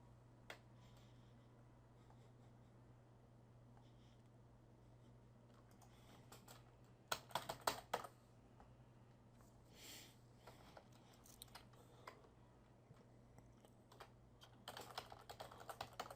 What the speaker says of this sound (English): as I was typing, it was actually entering it in correctly